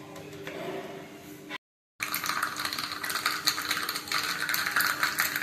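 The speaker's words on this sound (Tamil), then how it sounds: "கடுகு வெடிச்சு விடுத்து அடுப்பை ஆஃப் பண்ணிக்கிறேன்." Dense crackling and spattering of mustard seeds popping in hot coconut oil, steady and close, with a brief break of silence early on.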